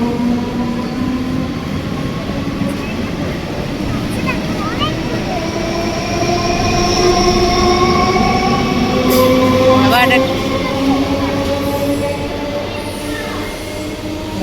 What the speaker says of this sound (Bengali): নামলাম ট্রেন থেকে, ট্রেনটা যাক